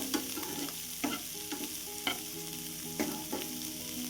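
Sweet corn kernels roast in a pan until reddish and crisp, a steady sizzle punctuated by regular scraping stirs and light clinks of the spoon, close and with no talk.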